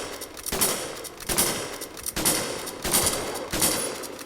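Gunfire in the Roblox western game Westbound: a series of sharp shots repeats at roughly even intervals over a continuous noisy background, loud and close.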